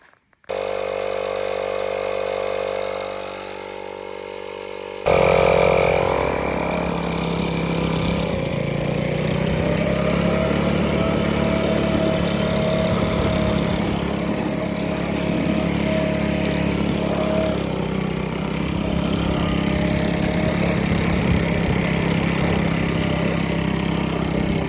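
An air compressor runs continuously while it inflates a tire and blows out the engine bay of a Scag mower, a loud, steady mechanical drone that jumps in level a few seconds in and then holds.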